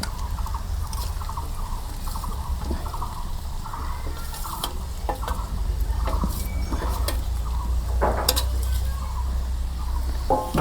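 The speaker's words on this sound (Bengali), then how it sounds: "মাংস দিয়ে দিলাম, নাড়াচাড়া করে দিই।" Raw desi beef dropped into onions fried until nut-brown in a clay pot over a village fire, then stirred: a steady frying hiss over low fire rumble, with scattered clicks and scrapes of the stirring spoon.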